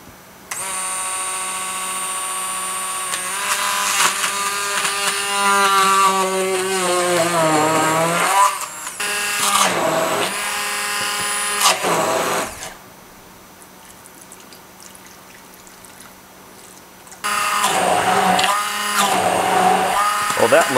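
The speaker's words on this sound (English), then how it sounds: "then I'm gonna go ahead and do a first blending cycle" A blender whirs loudly as it purees buzz button flowers in alcohol for a tincture, running in several bursts that rise and strain, with pauses between where the motor stops.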